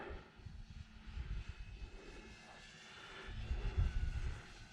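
E-flite Air Tractor RC model plane flying outdoors, its small propeller motor giving a distant, steady drone that swells and fades as it passes, faint and with no talking.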